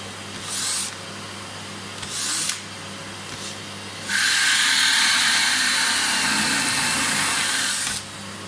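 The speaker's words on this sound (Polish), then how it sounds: "Wkładam sobie odciąg od odkurzacza." A cordless drill fitted with a Torx bit and a Blum mounting jig, with a vacuum cleaner dust-extraction attachment, bores into a panel edge. Two short drill bursts come first, then a steady, loud whine of drilling and suction lasts about four seconds.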